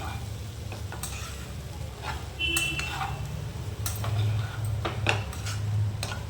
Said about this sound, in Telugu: రైస్ అంతని మనం ఇలా కలుపుకోవాలి. ఇందులో కలిసేలాగా మనం రైస్ని కలుపుకోవాలి.